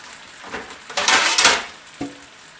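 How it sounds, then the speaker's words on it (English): A cover goes onto a cooking pot of seafood with olive oil and chicken stock: a few quick metallic clatters and scrapes, then a final sharp clink. "Then we're going to put a cover on it."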